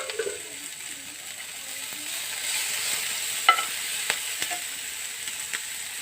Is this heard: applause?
no